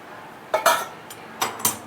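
Sugar syrup being stirred into mohanthal batter in a metal pan, two pairs of quick clinks and scrapes from a spoon against the pan, close and otherwise quiet.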